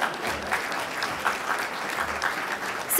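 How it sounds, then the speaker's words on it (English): An audience applauds steadily throughout at a live food-and-health talk, a continuous wash of clapping with no break. "Give him a round of applause."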